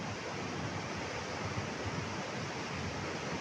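Floodwater of the Kacangan River in Banjarnegara, Central Java, rushes past in a steady, broadband roar with no breaks or voices, the current that swept away a sand-mining truck.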